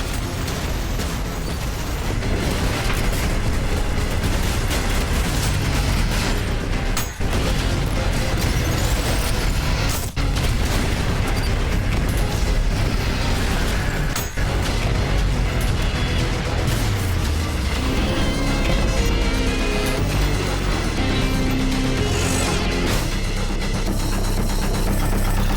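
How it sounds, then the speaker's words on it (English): A huge in-game explosion in the fast-paced shooter Ultrakill, a long, loud, dense roar that stays full and sustained for the whole stretch, layered with game music and mechanical clatter and with no voices over it. "That might just be the biggest explosion that we've seen in Ultrakill yet."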